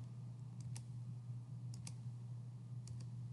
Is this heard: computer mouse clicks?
yes